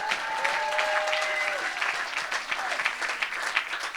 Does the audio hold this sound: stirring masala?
no